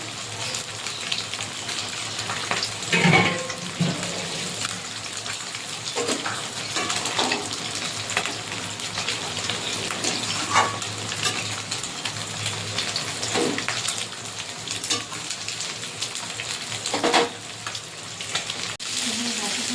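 Hilsa fish rubbed with salt, turmeric and raw mustard oil fries in a pan, giving a steady close sizzle with occasional stirring clinks and brief louder spatters throughout.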